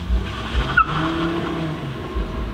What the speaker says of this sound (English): His car was really fucking loud and obnoxious and a lot of bass.